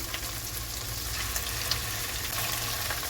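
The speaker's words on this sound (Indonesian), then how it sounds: "ini saya mau goreng dulu tahunya yang sudah dibalur dengan tepung maizena" Tofu coated in cornstarch fries in hot oil, a close, steady crackling sizzle that holds evenly throughout with no speech.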